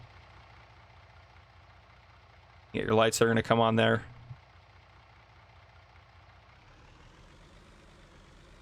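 A MAN truck idles in Farming Simulator 19 with a low, steady diesel hum that runs throughout at moderate level, briefly covered by someone talking partway through.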